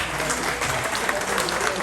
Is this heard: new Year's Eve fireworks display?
no